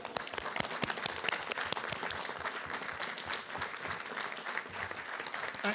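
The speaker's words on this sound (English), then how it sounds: "can we give Kerry a round of applause?" A council chamber meeting breaks into a round of applause: dense, continuous clapping from many hands, somewhat distant and soft, with faint voices mixed in.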